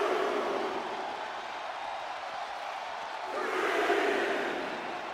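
Arena crowd roaring and cheering in the WWE 2K25 wrestling game, a steady wash of noise that swells louder near the end, with faint commentary voices underneath.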